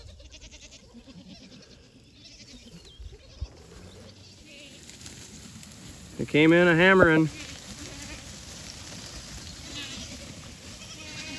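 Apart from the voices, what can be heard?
flock of sheep and herd of goats bleating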